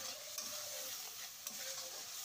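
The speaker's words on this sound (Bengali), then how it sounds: "মশলাটাকে ভালো করে কষাবো।" Spice paste (masala) being stirred and fried in oil in a pan for a fish curry, with a steady close sizzle and two light scrapes of the spoon against the pan.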